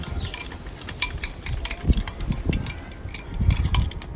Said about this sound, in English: Let's stir this again.